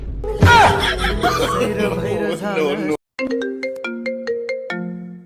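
A phone ringtone plays a repeating melodic tone pattern, clear and close, after a burst of loud voices and laughter.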